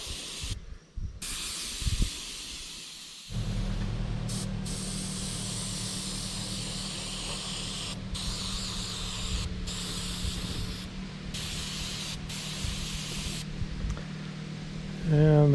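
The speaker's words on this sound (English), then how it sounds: "Then we spray white on the belly, lighten it up a little bit." White paint sprayed onto the belly of a largemouth bass fish replica for taxidermy, a steady close airbrush hiss running for most of the clip after a brief start.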